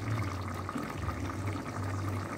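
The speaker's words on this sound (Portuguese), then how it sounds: "E agora eu irei colocar o creme de leite." Heavy cream pours into a pot of shrimp and potatoes cooking in their own released liquid, a steady liquid pour over a continuous low simmering hum, with no talk.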